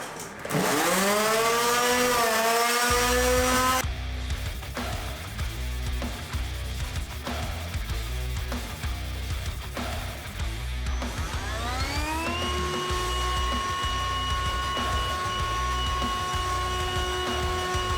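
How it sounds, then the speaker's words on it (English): A loud power sander whines and drones continuously, its pitch rising as it spins up and dipping with a repeating pulse as it moves across a surface. "I hate sanding."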